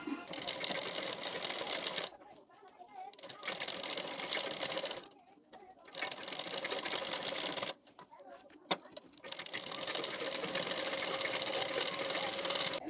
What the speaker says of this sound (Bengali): হাফ ইঞ্চ গ্যাপিং দিয়ে পুরোটা এই পর্যন্ত সেলাই দিয়ে নেবেন